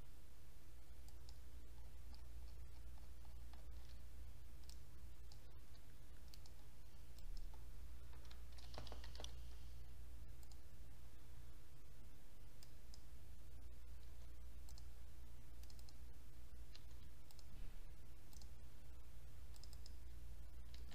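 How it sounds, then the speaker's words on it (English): Faint, steady clicking of computer keyboard keys as data is typed in, the quiet tapping running throughout over a low background hum. "Make sure you type the data accurately."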